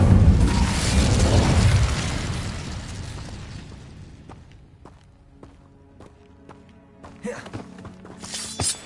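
A fire spell is cast in a Harry Potter video game: a loud roaring burst of flame opens and slowly fades, followed by quieter scattered clicks and small impacts, then a sharper crackling flare near the end.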